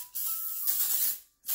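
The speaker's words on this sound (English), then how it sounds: "I am going to treat it with some non-cooked cooking spray" Avocado oil cooking spray hisses onto a baking dish in two close bursts, a long spray and then the start of another after a short pause, with no talking.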